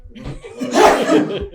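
A single sneeze, close and short, with a breathy burst at its peak and a little laughter-like noise around it, heard at a tabletop game session.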